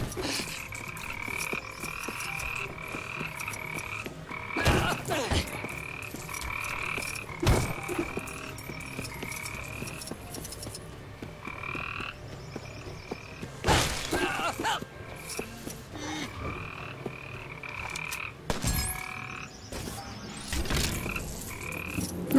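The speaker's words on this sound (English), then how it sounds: "These frogs." Frogs croak in the LEGO Jurassic World video game on Isla Sorna, repeated throaty calls over a game soundscape, broken by several loud crashing, shattering bursts.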